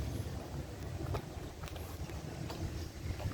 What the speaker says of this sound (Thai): บรรยากาศลมรื่นมาก